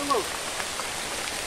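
Heavy rain falls steadily during a camping night at a cabin, a continuous broadband hiss of drops on surfaces, with a brief voice at the start.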